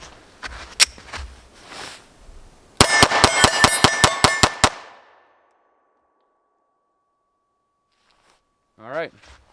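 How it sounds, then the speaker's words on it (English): A Smith & Wesson CSX pistol fires 124-grain rounds. A few scattered shots come first, then a rapid burst of about ten sharp, evenly spaced cracks, followed by silence and a brief faint noise near the end. "We're gonna do a little speed shooting, see if it does okay with that trigger."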